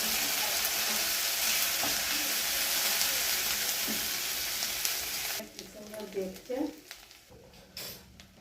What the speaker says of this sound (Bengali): আদা রসুন বাটাটাই ভালো করে ভেজে নেব যাতে কাঁচা গন্ধ না থাকে